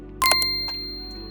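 A bright notification bell ding rings once with a quick double strike and a softer follow-up tap, then a clear tone decays.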